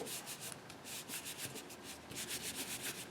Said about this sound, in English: I always turn things over and rub to make sure that it's adhered